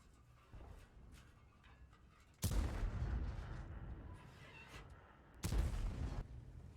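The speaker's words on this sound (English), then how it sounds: "He's taking some shots at the side of the Super Conqueror there." Tank cannon shots in a tank video game, fired at the side of a Super Conqueror, come as two heavy booms over faint background game noise, with no talking.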